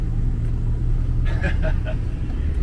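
A massive mining haul truck weighing about a million pounds, carrying over 600,000 pounds of load, grinds up a mountain road: a constant deep engine rumble with faint brief higher tones, heard from a distance.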